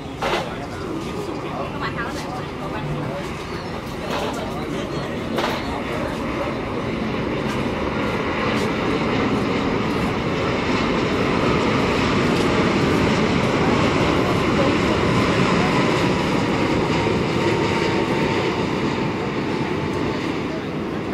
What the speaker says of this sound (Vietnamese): một chiếc máy bay khác cũng đang bước vào hạ cánh, chiếc Boeing 7879 Dreamliner của hãng không Thổ Nhĩ Kỳ